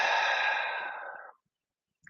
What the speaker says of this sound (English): Start to breathe in through the nose, out through the mouth.